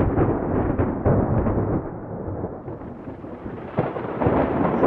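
Thunder from lightning during a storm rolls as a continuous low, heavy rumble, swelling and fading in waves with no voices over it.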